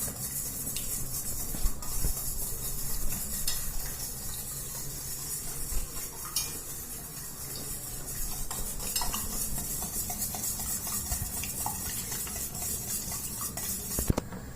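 Eggs for caramel pudding are beaten in a bowl, giving a continuous, fairly quiet whisking and stirring clatter over a soft background hiss, with a couple of louder knocks and no talking.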